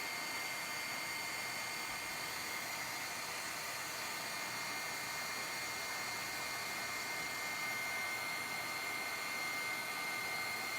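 A heat gun blows steadily in a continuous airy roar, drying a spray-painted art journal page with a metallic sheen; no one speaks over it.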